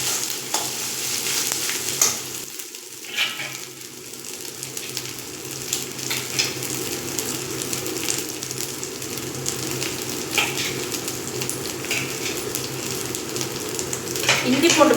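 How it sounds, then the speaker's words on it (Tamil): Ginger garlic paste sautés in a pan with a steady, close sizzle, while a spoon scrapes and stirs at irregular intervals throughout. "இஞ்சி பூண்டு பேஸ்ட் நல்லா பச்சை வாசனை போக வரைக்கும் வதக்கிக்கணும்."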